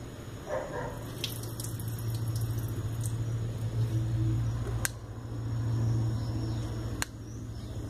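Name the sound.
water being poured off seeds in a container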